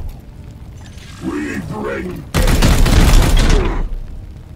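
A burst of dense gunfire in the video game Warhammer 40,000: Chaos Gate - Daemonhunters erupts after a stretch of speech, loud and continuous for about a second and a half before fading.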